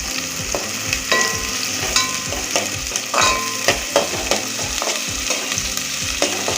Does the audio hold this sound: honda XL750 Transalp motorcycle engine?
no